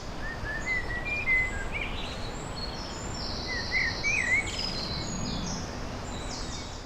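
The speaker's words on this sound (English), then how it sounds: "the blackbird has, like, particularly this one, had a kind of a slightly mournful kind of tone to it to me" A blackbird sings a slightly mournful, unhurried song in mid-morning, its few fluting phrases spaced out against a steady outdoor background hiss, moderately near but not loud.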